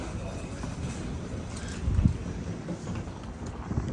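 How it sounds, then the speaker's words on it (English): Wind buffets the microphone outdoors in St. Louis, Missouri, a steady low rumble with a few stronger gusts and no clear talk. "It's a little bit windy"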